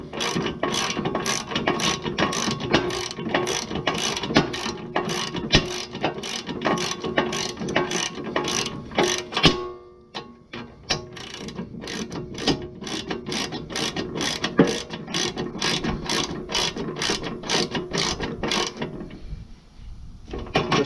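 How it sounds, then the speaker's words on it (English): A ratchet wrench clicks in a fast steady rhythm, close and loud, as a locking nut is tightened down onto a 1/4 inch bolt while installing a chute system on a Hustler Super Z mower, with a brief pause midway. "tighten one locking nut all the way down"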